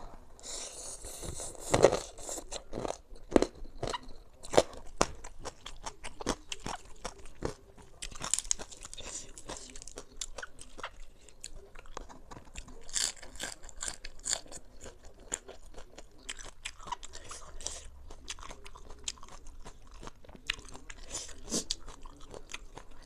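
Crispy fried pork ear eaten with spicy papaya salad, loud close crunchy bites and chewing repeating in irregular bursts, with quieter stretches between and no talk.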